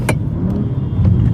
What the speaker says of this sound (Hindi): पेट्रोल में थोड़ा ना बेस वाली आवाज, इसके अंदर डीप आवाज है थोड़ा सा, थैंक्स टू इसके इनलाइन जो 6 सिलेंडर इंजन है ना